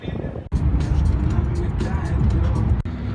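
A BMW X5 driving along a road toward a mountain pass in Ukraine, steady engine and tyre roar with road rumble throughout, a voice speaking over it.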